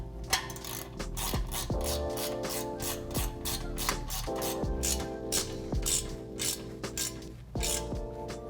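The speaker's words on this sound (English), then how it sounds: "we'll tighten down these two bolts holding the flange" Ratchet wrench tightening the exhaust flange bolts joining the resonator to the downpipe on a 2015-2020 Ford F-150 aftermarket cat-back exhaust, a close, steady run of rapid clicking strokes with brief pauses between pulls.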